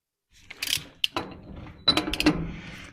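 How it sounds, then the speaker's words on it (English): A torque wrench ratchets and clicks while tightening the inner nut on a 14-bolt rear axle during a rear disc brake upgrade: a few sharp, close mechanical clicks and ratcheting bursts separated by short pauses. "I'm going to torque this up."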